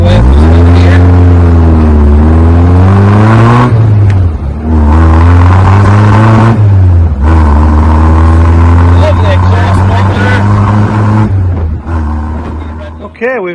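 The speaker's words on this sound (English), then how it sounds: "Now we'll accelerate hard away from the here." A 1979 MG Midget sports car accelerates hard, its engine note loud and close, rising through the gears in three sweeping pulls with short dips at each shift, and someone speaking over it.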